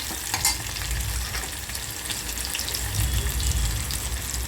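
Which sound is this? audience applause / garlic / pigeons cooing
garlic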